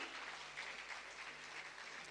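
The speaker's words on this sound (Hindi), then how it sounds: "तालियां आपकी तरफ से होती रहें।" Faint, distant applause from an audience at a ceremony welcoming a minister, a soft continuous patter of clapping holding at a low even level.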